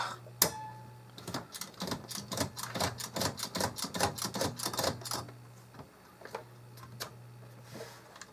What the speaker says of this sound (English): Put it all the way over and then start typing. You'll notice it is very, very loud because obviously it is a budget portable machine.